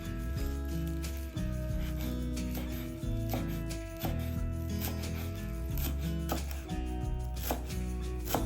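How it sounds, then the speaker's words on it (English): Knife chopping a bunch of parsley on a cutting board, rapid repeated close thuds in bursts with brief pauses between rounds. "chop 1 bunch of parsley."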